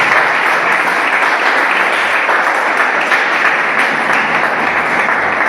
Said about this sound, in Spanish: Demos un aplauso a la palabra del Señor.